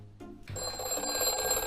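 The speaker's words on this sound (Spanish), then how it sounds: "Suena el teléfono." A telephone rings with a bright, trilling electronic tone after a brief click, continuing steadily and fairly close.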